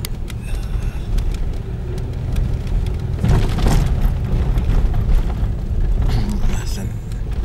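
An electric bus rolls past on a San Francisco street near a Sunday farmer's market, a rising broadband whoosh and rumble that swells in the middle and fades, with traffic noise around it.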